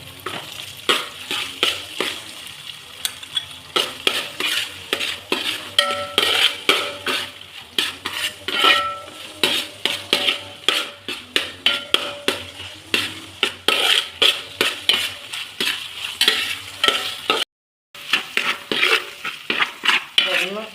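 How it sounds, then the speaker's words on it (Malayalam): Sago pearls, half-cooked, being stirred and roasted in ghee in a pan for tender coconut payasam: a steady run of close scraping and clinking spoon strokes over a soft sizzle, with a brief break near the end. "ഇതും കൂടെ നെയ്യുടെ കൂടെ ഇട്ട് വരട്ടാം"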